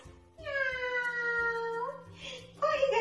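A voice imitating a cat's meow in a children's farm-animal lesson: one long, drawn-out wavering mew, close and clear, followed by a brief hiss of breath and a short rising cry.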